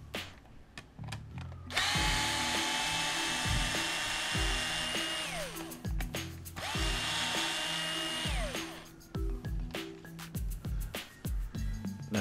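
A power tool backs bolts out of the front end of a Traxxas Slash LCG RC truck. The motor whines loudly, spinning up and winding down in repeated rising and falling surges, close by with no talk.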